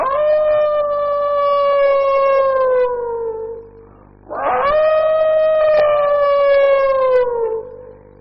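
A voice imitates a dog howling in the eerie style of a horror film, two long wavering wails with a falling pitch, loud and close, separated by a short dip.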